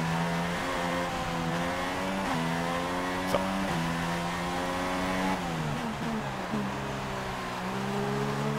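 In the racing game F1 2016 at the Hungary circuit, a Formula 1 car's engine wails continuously and close up, its pitch climbing and dropping sharply through repeated gear shifts.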